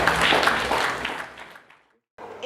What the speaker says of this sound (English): I think we can clap for him for that.